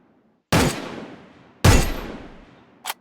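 Two loud, sharp gunshots about a second apart ring out with echoing decay in a video game, followed by a short high metallic ping.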